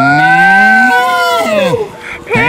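A child imitates a cow with a long, drawn-out voiced moo that falls in pitch, followed by a couple of shorter vocal sounds, in a children's acted pancake story.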